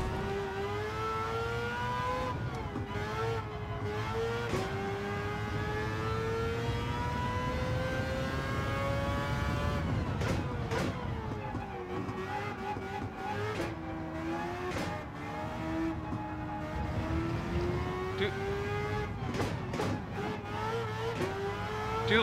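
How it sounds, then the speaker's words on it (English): A rotary-engined race car in Gran Turismo 7 revs continuously with a high, buzzy rotary whine, rising and dropping through gear shifts, loud and sustained throughout. "I love the rotary engine sounds on this."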